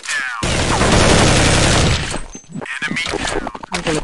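Rapid, loud gunfire rattles in a shooter video game, a dense sustained volley for about two seconds, followed by scattered shots and clatter while someone talks over it.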